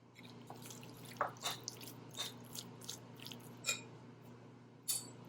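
Someone chews a bite of salt-and-pepper seasoned pork porterhouse close up, making soft, wet, intermittent clicks and squelches over a quiet background, with no talking.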